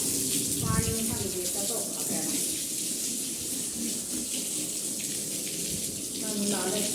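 Tap water runs steadily while a heavy double-bed blanket is rinsed, giving a continuous rushing splash throughout, with voices faintly audible underneath.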